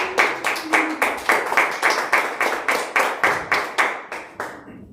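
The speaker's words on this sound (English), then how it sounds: "Round of applause for Cole, everyone." Slow, rhythmic clapping from a small audience at an open mic night, about a dozen distinct hand claps in a steady beat, fairly close and loud, with no talking over it.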